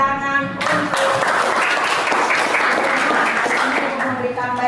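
A classroom of students breaks into loud, sustained clapping after a short-story analysis lesson, dense and steady for several seconds, with a voice speaking briefly before the applause starts.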